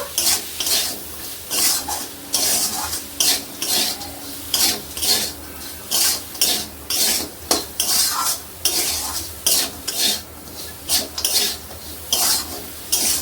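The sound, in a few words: stirring chicken momo filling of beans, green chilli, pepper in pan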